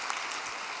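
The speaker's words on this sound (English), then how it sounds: "please give her a big round of applause of encouragement" Brief burst of applause from an audience at a spiritual gathering, a steady wash of clapping held at an even level for under a second.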